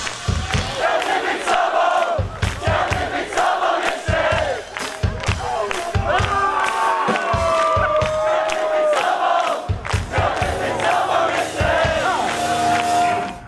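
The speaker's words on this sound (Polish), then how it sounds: "Rewelacyjny koncert zgromadził tłumy na Placu Tysiąclecia." A large concert crowd on Plac Tysiąclecia, a town square, cheers and shouts at a city festival, loud and sustained, with whoops and bellows rising over a rhythmic, percussive backdrop for the whole stretch.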